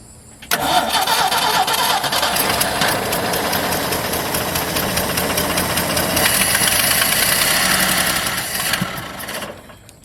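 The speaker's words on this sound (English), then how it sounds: "So let's fire this thing up and see if it'll idle." A 1977 Ford tow truck, left to rot and fed starting fluid, cranks and fires, then settles into a loud, rough, slightly knocking idle that holds steady for several seconds before tapering down.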